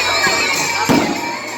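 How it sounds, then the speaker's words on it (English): Fireworks bursting over Six Flags Magic Mountain on the Fourth of July, a steady roar of crowd noise with one sharp boom near the middle and a few fainter pops around it. "This is better than Del Mar Fair fireworks."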